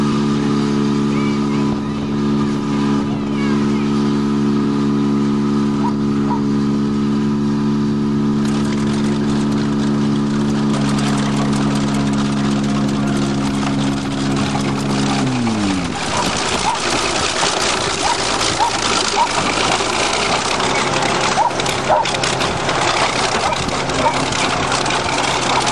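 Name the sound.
20-ton bulldozer crushing a running Ford Topaz car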